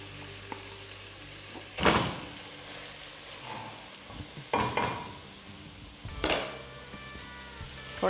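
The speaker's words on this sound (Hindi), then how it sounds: "कीमा डालकर मैंने इसको भून लिया बहुत अच्छा सा" Minced keema stir-fries in a hot pan, a continuous close sizzle with three distinct loud scraping stirs spaced a few seconds apart, no talking.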